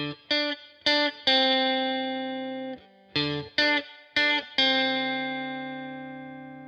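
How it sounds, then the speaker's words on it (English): An electric guitar plays the short horn-section intro riff of a song, a quick pattern of plucked notes with a long ringing note, then repeated, clean with light effects and no talking. "I'm going to put in a small little intro riff, which is the horn section right at the beginning of the song"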